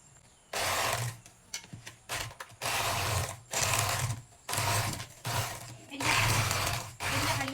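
Electric hand beater whirs through margarine and sugar for peanut biscuits, running in loud bursts of about a second that stop and restart repeatedly, close and steady-pitched.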